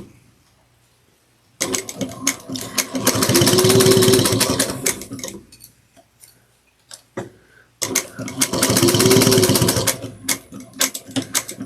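A sewing machine top stitches a sling pack in two loud, steady bursts of rapid mechanical clatter, each a few seconds long, separated by quieter handling clicks and fabric shuffling.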